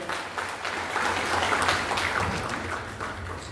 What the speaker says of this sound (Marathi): साळुंखे साहेबांसाठी जोरदार टाळ्या वाजवायच्या आहे।